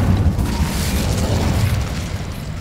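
A fiery Incendio spell blast in the Hogwarts Legacy video game, a dense booming whoosh of flame and rumble that holds steady and loud for a few seconds before easing slightly.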